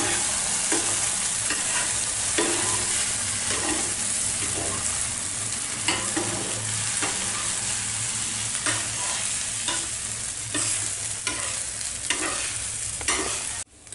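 Egg kalakki sizzles loudly in a hot pan as it is folded over, a continuous close frying hiss broken by regular spatula scrapes and taps, with no talking.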